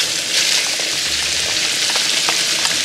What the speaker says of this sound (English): So now we're going to add in our peppers and our onions.